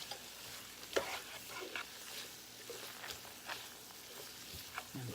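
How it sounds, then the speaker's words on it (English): Flour fries in hot oil while a roux is made for smothered turkey chops. A soft, close sizzle runs under intermittent scraping stirs and light taps. "we are going to swish that around in this hot oil until it starts getting to be a nice caramel color"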